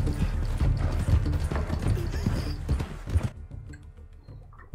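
Hooves clip-clop at a walking rhythm as a horse moves along in the video game Red Dead Redemption II, close and fairly loud with creaks mixed in, then cut off abruptly near the end.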